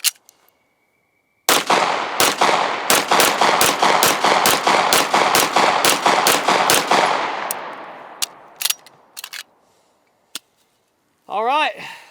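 A Walther PDP pistol fires a rapid string of about fifteen sharp, loud shots, followed by a few scattered shots and a brief ringing metallic clatter near the end.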